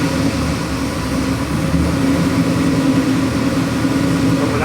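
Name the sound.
LS3 376 cubic inch crate engine running at high idle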